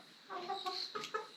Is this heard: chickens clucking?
yes